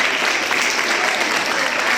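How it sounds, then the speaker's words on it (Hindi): A crowd at a public gathering applauds three students, producing loud, dense, continuous clapping from many people. "तालियां बजनी चाहिए इन तीनों बच्चों के लिए।"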